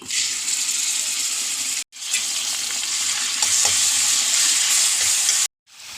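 Garlic, shallots and curry leaves sizzle and crackle in hot oil in a pan, a loud, steady frying hiss broken by two brief silences.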